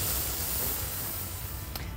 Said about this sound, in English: the key to spray paint is holding the can about this far away and doing really light layers multiple times